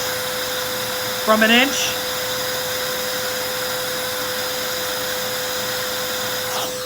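An XPOWER canister blower runs steadily on its low setting, a constant loud whirring hum throughout, with a brief voice speaking over it near the start.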